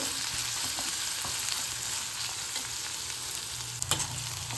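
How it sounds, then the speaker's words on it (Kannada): Two cut onions frying in hot oil toward golden brown, a dense continuous sizzle with light crackle and a brief utensil knock near the end, no talking. "ಇದು ಗೋಲ್ಡನ್ ಬ್ರೌನ್ ಬರೋ ತನಕ ಚೆಂದ ಫ್ರೈ ಮಾಡಬೇಕು"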